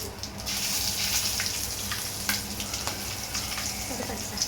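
Cumin seeds and chillies frying in hot oil in a pan for Schezwan fried rice, a steady close sizzle with crackling pops and no talk.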